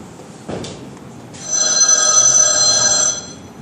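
A telephone rings loudly in a staged anti-tobacco role-play scene. It gives one short trill, then a longer sustained electronic ring, close by and with no talking.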